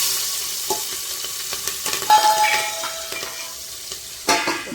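Garlic and green chilies frying in a pan for a dal tempering, with soft sizzling and occasional stirring scrapes and clinks, close and moderately loud with no talking.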